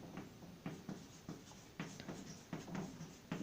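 Pen or pencil scratching on paper as a poem is written out by hand, a series of short strokes and taps in an irregular rhythm, close and fairly quiet, with no talking.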